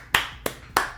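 Three sharp, separate hand claps ring out close and distinct at roughly even intervals, each a crisp slap with a short decay.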